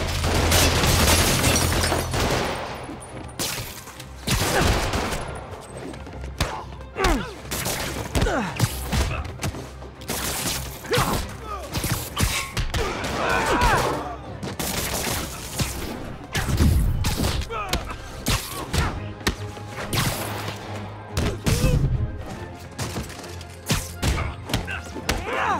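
Gunfire during a fight at a Fisk building site in Marvel's Spider-Man Remastered, loud rapid bursts of shots and heavy impact thuds rattling on and off across the scene, mixed with scuffling and other game effects.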